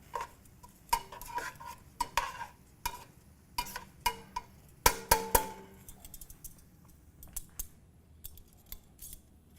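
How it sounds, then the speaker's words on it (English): Pasta tossed with extra virgin olive oil is stirred in a pot, giving sharp, irregular metallic clinks and scrapes of a utensil against the pot, spaced out with quiet gaps and no talking. "Give that a quick stir."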